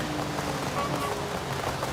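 Steady rain pours down in the Forza Horizon 5 racing game, a constant even hiss of drops on surfaces with a faint low hum beneath, no voices.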